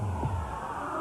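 A heartbeat sound effect in a 1988 Chevy compact pickup truck commercial thumps once, low and soft, over a steady hum, with no voices.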